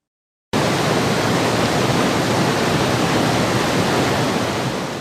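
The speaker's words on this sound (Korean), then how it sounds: "바위 사이로 세차게 떨어지는 폭포수는 차가웠지만" A waterfall pours hard between rocks into a pool, a dense, steady roar of crashing water that starts abruptly after a brief silence and holds loud and unbroken throughout.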